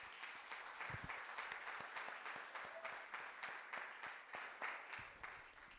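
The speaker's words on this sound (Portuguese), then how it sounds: "Aplauda mais forte ao Senhor." Congregation applauding during an evangelical church service, a dense, steady patter of many hands filling the room, moderately loud, with a few sharper claps standing out near the start.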